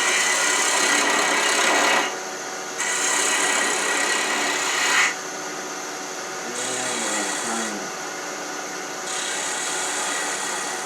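A wood lathe spins steadily while a spindle gouge cuts the turning wood, with a loud whirring hiss that rises and drops in several stretches as the tool engages and lifts.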